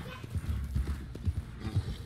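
Horse hooves clip-clop on the ground in the Red Dead Redemption 2 video game, a soft, uneven run of thuds at moderate distance.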